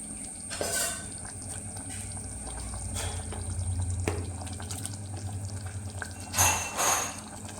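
Water draining and trickling from freshly washed meat ribs in a kitchen, a soft continuous running and dripping with a brief louder splash near the end.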